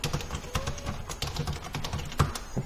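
Close computer keyboard typing during a Proxmox installation setup, with rapid, uneven clicks and taps running without pause and no voice.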